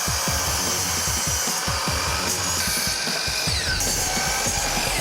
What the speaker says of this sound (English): For that, they need the chop saw.